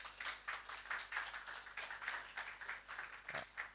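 A room of spectators at a Banking Chanakya 2024 quiz semi-final claps to welcome the quiz master, a fairly faint but continuous patter of hands that holds steady throughout.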